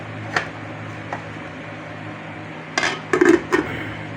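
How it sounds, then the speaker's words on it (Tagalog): A metal lid is set on a cooking pot of tilapia sinigang, a few sharp clinks and clatters near the end after one earlier light tap, against a quiet kitchen background. "lagyan na natin ating tilapia. At takpan natin ulit"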